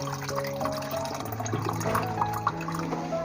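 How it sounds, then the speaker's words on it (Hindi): Starchy water pours and trickles off soaked, cut potato strips being prepared for McDonald's-style french fries, a close, continuous gush of liquid with faint music underneath. "इनका पानी जो है ना ऐसे निकाल देना है"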